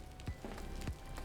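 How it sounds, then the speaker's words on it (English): Steady rain patters over the ground in The Casualties: Unknown. It is a soft, constant hiss with a few brief louder splashes, and there is no talk. "Is this just constant rain the entire area?"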